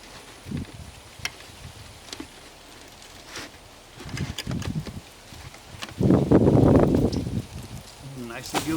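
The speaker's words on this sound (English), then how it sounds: "They got some people doing demolition on a house next door." Demolition work on a house next door, heard as irregular knocks, scraping and a louder rumbling crash burst in the background, with faint indistinct talk among the clatter.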